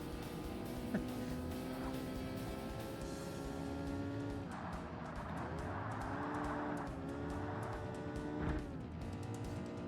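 Racing car engine from the 2005 Forza Motorsport video game, a continuous droning whine that shifts pitch with gear changes and throttle, steady and fairly quiet throughout.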